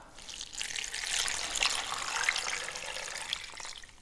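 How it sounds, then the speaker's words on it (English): Tap water pours into a pot of beef fat being rendered into tallow, a steady hissing splash that swells and holds for a few seconds, with no talking. "Now into my beef fat, what I'm going to add is 6 to 8 cups of water."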